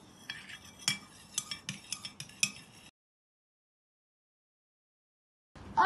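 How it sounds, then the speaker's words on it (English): A utensil stirs broken crayons in a small container, making a quick run of light clinks and scrapes for a few seconds before silence, then a brief louder noise at the very end. "Right now I am mixing the crayons."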